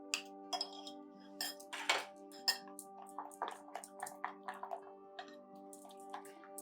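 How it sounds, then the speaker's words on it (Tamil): Gram flour batter stirred in a bowl gives quiet, irregular clinks and taps of a utensil against the bowl, close up and without talk, over a faint steady hum. "கடலை மாவை நல்லா கலக்கி விட்டுக்கோங்க"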